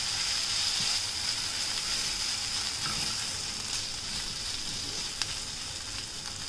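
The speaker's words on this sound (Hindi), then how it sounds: "अब इसमें मैं अपने बॉइल्ड आलू डाल दूंगी जो मैंने मैश भी करके रखे हैं अच्छे से।" Mashed boiled potatoes hiss and sizzle steadily in a hot pan while they are mixed, with a faint scrape or two against the pan, heard up close and with no talking.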